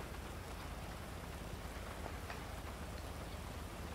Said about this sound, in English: Oh, the rain, it's still raining, but it's stopping.